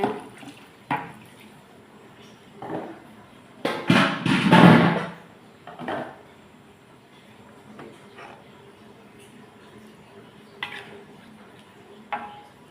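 Water splashes into a cooking pot of chicken feet and chopped greens for soup, with a short louder pour midway among scattered clinks and taps of kitchenware.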